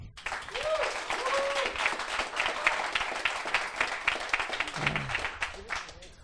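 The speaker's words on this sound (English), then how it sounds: "clap for Pflegli, please." Audience applause at a startup pitch event, a steady wash of clapping from a crowd lasting several seconds, with voices and some cheering mixed in under it.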